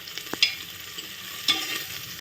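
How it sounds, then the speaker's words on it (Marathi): Onions with a little salt sizzling in a hot pan with a couple of scraping stirs, close and steady, no talking. "कांदा छान फ्राय झाला"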